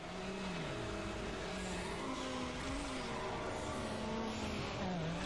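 Racing car engine in Need for Speed Underground droning steadily and loudly throughout, with pitch sweeping up and down as gears change, no talk over it.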